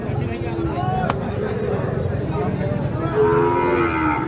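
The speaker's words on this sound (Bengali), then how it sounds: "এ পাশে একটা সুন্দর সাইজের শাহীওয়াল ষাঁড় বাচ্চা দেখছি" A young Sahiwal bull at a busy cattle market lets out a loud, drawn-out moo close by, with crowd babble and market noise running underneath.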